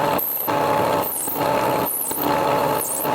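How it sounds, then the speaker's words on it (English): A small metal lathe turns down a little spindle piece, a steady high motor whine with cutting noise and brief bright squeals recurring roughly every second, close and continuous. "what I'm now doing is turning down this little spindle piece to connect the porcelain handle to this bit that slides up and down on the lathe"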